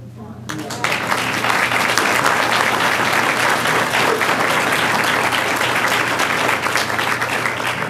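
An audience at a health insurance renewal meeting bursts into applause, dense sustained clapping that starts abruptly after a quiet moment and stays loud to the end.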